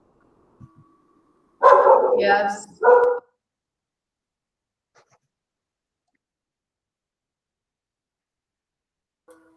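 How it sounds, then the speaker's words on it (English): A few dogs bark as background noise on an online meeting call, giving two short, close yelping bursts in a row, with a brief spoken word and long stretches of silence around them. "And a few dogs barking"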